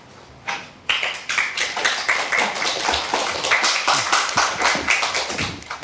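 An audience applauds after a speaker is introduced at an archaeology lecture, a burst of steady clapping that starts after a brief pause and continues evenly, fairly loud and close, with no voices.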